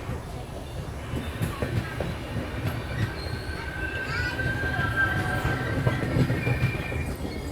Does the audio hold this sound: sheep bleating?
no